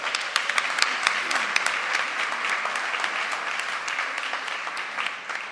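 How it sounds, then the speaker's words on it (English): Sustained applause from a sizable audience at a human rights debate, steady clapping throughout with no voices standing out. "Can we give them another round of applause?"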